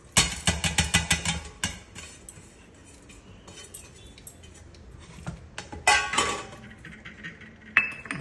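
Ingredients for an orange peel chutney, including jaggery, clatter into a mixer grinder jar: a burst of quick clinks and knocks, a quieter pause, then more scattered clinks and a final sharp tap.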